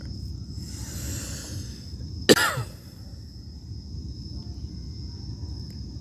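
A person coughs once outdoors at night on a Washington D.C. street, a short sharp burst standing out over a steady bed of chirping crickets.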